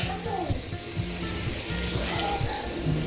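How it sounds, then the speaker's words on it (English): Fish fries in a pan with a steady, close sizzle and crackle that runs unbroken throughout. "So while I'm frying up the fish,"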